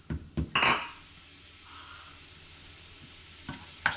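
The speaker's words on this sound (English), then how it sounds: "So I'll cook off the leeks first with the garlic." Leeks and garlic are stirred in a pan, with a few sharp metal scrapes and clinks at the start and the end around a quiet, steady sizzle. Nobody speaks.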